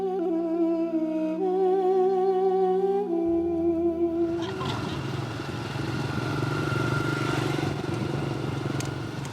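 Motorcycles ride a road in Cambodia on a 300 km trip with three riders on one bike, giving a loud continuous engine drone with rattling. Tonal music fades out at the start, and then the road noise carries on steadily.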